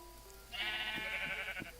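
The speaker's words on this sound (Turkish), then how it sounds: "Aha biraz daha koyun." Blocky Minecraft sheep bleat in a quick run of nasal, wavering calls that start about halfway through and carry on to the end, fairly loud over a quiet background.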